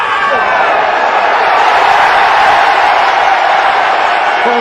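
A cricket crowd at Supersport Park keeps up a loud, steady roar during a test match, dense and unbroken throughout with no distinct peaks.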